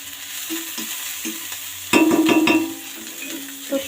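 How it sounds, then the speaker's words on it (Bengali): Dried fish fries in mustard oil, a low sizzle broken by a sudden loud burst of crackling spatter midway and a few clinks of a stirring utensil against the pan. "এবার সরিষার তেলে শুটকি মাছগুলোও আমি ভেজে নিচ্ছি।"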